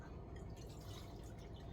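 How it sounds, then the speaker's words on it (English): Chicken stock poured into a measuring container, a steady close trickling and dripping of liquid filling the vessel throughout, with no talking. "I'm going to measure out 3 cups of chicken stock."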